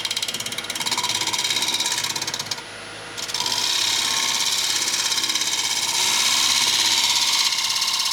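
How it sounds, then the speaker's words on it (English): A steel hand scraper cutting cured epoxy on a turquoise rock inlay in pear wood, giving a steady, close, rhythmic rasping scrape that pauses briefly partway through and then resumes, with no talking. "Scraper is actually cutting pretty good."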